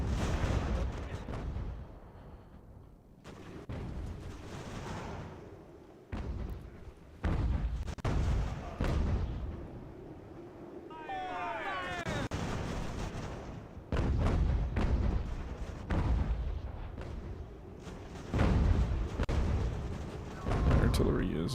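Artillery booms roll across a blizzard battlefield in Ultimate General: American Revolution, heavy bursts recurring at uneven intervals over a constant windy background.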